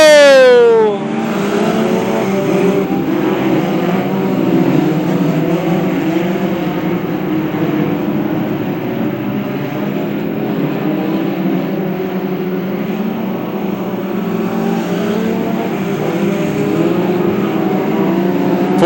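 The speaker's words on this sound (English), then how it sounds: "Four-cylinder front-wheel drive cars going through the front stretch onto the back straightaway now." Four-cylinder front-wheel-drive Hornet race cars roar down the front stretch of Macon Speedway, a loud, steady engine drone from a pack of cars that holds throughout with no talk over it.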